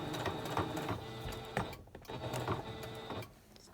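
A sewing machine stitches pleats on a fabric face mask, running in short back-stitch bursts with brief pauses between, close and steady with no voices.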